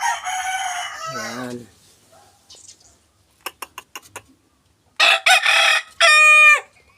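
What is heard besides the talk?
rooster crowing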